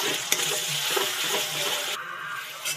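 Ginger garlic paste and chopped tomato sauté in a hot pan, giving a steady close sizzle with scraping stirs and a brief louder clatter partway through.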